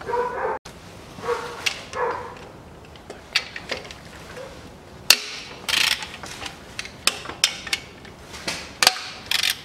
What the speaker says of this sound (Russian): откручиваю два болта на 14